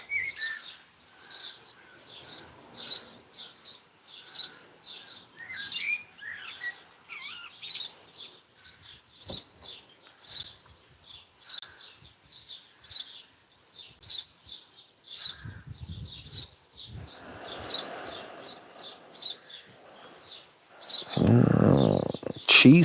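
Birds chirp and call repeatedly outdoors, the calls faint to moderate and scattered across the clip. Low rustling and brief louder noise appear near the end.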